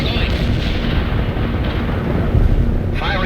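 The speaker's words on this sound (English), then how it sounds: "The artillery rounds are inbound." A heavy artillery barrage rumbles on without pause in World in Conflict, a dense, loud wall of distant booms and explosions, with radio chatter faintly mixed in near the end.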